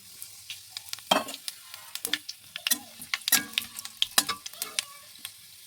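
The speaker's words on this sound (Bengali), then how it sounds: "আমি একটু কালো জিরে ফোড়ন দিয়ে নেব।" Nigella seeds tempering in hot oil in a pan, a string of sharp crackles and pops at an irregular rhythm over a quiet sizzling background.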